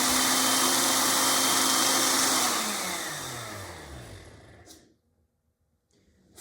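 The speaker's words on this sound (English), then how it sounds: "Once you've got all of your ingredients in your blender, you can turn it on and blend until it's smooth." A kitchen blender whirs loudly as it purees an avocado cream sauce, its motor steady at first, then winding down in falling pitch and stopping, followed by near silence.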